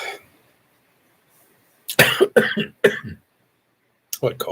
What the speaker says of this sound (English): that cough is strong.